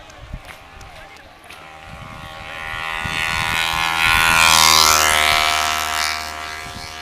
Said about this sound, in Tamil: வண்டி வருதுண்ணா, வண்டி வருதுண்ணா